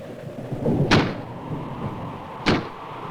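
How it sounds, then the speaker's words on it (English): A door bangs in the wind against an old house at night, two sharp thuds about a second and a half apart over a low windy rumble. "That's just the wind banging a door"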